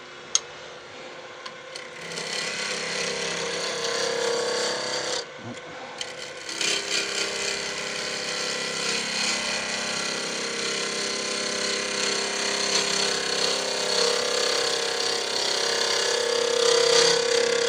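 A lathe gouge cutting a bog oak and red resin fountain pen blank, a continuous gritty scraping rasp that stops briefly, resumes, then builds louder and slightly higher toward the end, close, with no talking.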